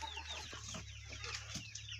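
Australorp hens on a poultry farm in Pakistan cluck softly and repeatedly over a low background hum, with no voices.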